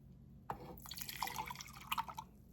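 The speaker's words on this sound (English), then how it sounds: "Then we're going to pour our milk directly into our frother." Milk is poured from a container into a milk frother, a short splash onto the bottom followed by a close, bubbling liquid stream lasting about two seconds in a quiet kitchen.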